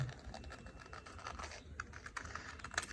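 Scissors snip through fabric while a half circle skirt is cut out, a quiet run of soft crisp clicks and scratches close by, with the blades closing in a few louder bursts near the end and no talk.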